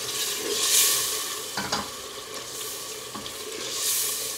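Onions cooked for about ten minutes in a pot for beef curry, deglazed with water: a soft steady sizzle with a few scraping stirs, moderately close and alone.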